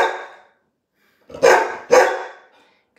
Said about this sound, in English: she's going to bark until I feed her